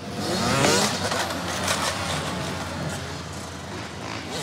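Loud, close motorcycle engine revving hard during a street rodeo of wheelies in Marseille, a rising then sustained throaty roar with no voices.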